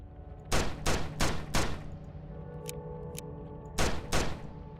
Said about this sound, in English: It's a flintlock repeater. Uses X-gun ammo.